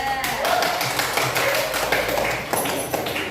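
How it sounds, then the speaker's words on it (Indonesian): A classroom of students claps for group 2 during a lesson, a loud, dense patter of many hands with a few sharper accents, held throughout. "Tepuk tangan untuk kelompok 2."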